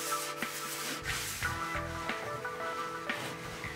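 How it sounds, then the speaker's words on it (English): Sandpaper rubs over wooden stairs and patches of knot seal, giving a steady close scratchy hiss in short repeated back-and-forth strokes. "Sand also the knot seal the second time round."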